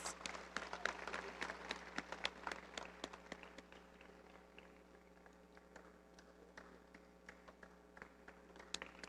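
Audience applause at an awards ceremony, a crowd clapping steadily with dense, irregular hand claps, heard at a distance and fairly faint, strongest at the start and tapering slightly over about nine seconds.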